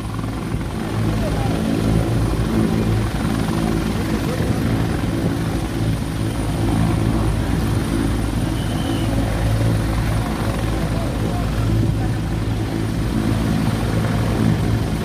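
A helicopter lands near a political meeting for the Chief Minister, its rotor and engine roaring loud and steady throughout with a constant low throb and no pause.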